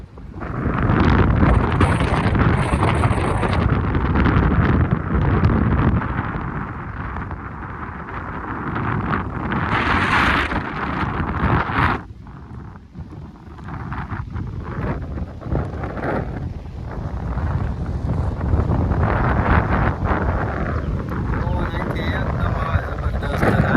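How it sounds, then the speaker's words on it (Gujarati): Strong wind buffets the microphone in heavy roaring gusts at the seashore, easing briefly midway before building again, while a person talks underneath. "તો મિત્રો આપણે પહોંચી ગયા છીએ દરિયે. બતાવવા એનો બહુ પવન આવે છે"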